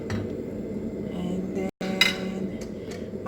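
A metal lid clanks back onto a pot of boiling chicken soup, with a sharp clatter around the middle amid a background of bubbling and kitchen noise, and a few lighter clinks after.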